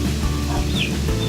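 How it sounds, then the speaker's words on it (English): A mother hen clucks beside her chick inside a chicken house. Soft clucks and faint peeps sit over a constant low hum of the coop. "And there's another mama chicken with her baby."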